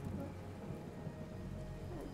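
Rain and thunder in the video game Kingdom form a steady, dense wash of falling rain with low rumbling underneath, continuous and even throughout, with no talk.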